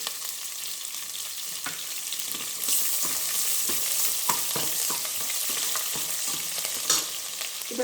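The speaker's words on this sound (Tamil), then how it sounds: "இஞ்சி பூண்டு விழுந்து போட்டுடலாம் இந்த எண்ணெயிலேயே" Ginger and garlic frying in oil in a pan for vegetable upma, a steady crackling sizzle with scattered sharp pops and a few stirring scrapes, fairly close and continuous throughout.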